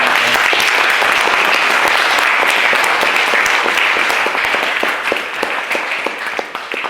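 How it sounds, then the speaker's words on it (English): Loud, sustained applause from a debating-society audience at a Harry Potter versus Lord of the Rings debate, dense clapping filling the room and easing slightly toward the end. "So I think we owe you all a massive round of applause for all the work."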